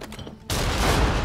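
Gunfire in Nioh 2 bursts in abruptly after a short quiet lead-in, a dense, loud crackle of shots that continues to the end without a break.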